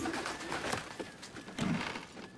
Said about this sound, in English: That bird flying around is really annoying.